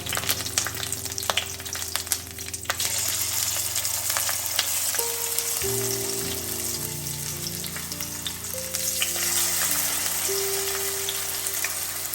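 Squid pieces with curry leaves fry in hot oil, a dense, steady crackling sizzle like rain that continues throughout, with a faint background hum shifting partway through.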